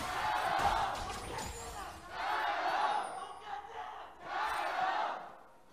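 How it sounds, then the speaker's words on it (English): A live crowd at a League of Legends esports arena in China chants and cheers in three rhythmic swelling waves, heard from a distance and fairly faint. "LGD fans seeming to feel pretty good after game 1. We're definitely the louder group there."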